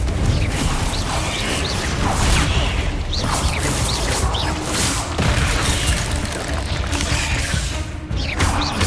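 Spell explosions from Confringo and Bombarda in the Hogwarts Legacy video game, a steady dense barrage of booming blasts, crashes and whooshes, loud and continuous throughout with no talking.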